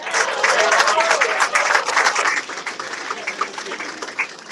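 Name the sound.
applause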